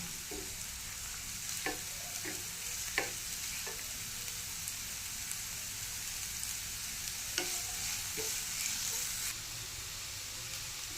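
Vegetables lightly frying in a pan for Maggi tikki, a faint steady sizzle with a few scattered spatula clicks and scrapes, quiet and without talk.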